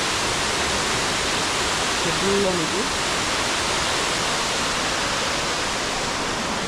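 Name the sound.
Elephant Falls waterfall, Shillong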